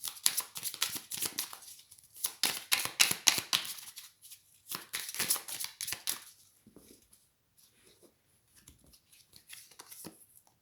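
Oracle cards being shuffled by hand during a tarot-style reading, close, crisp riffling and flicking in irregular bursts that thin into a few soft slaps as cards are drawn, with no talking.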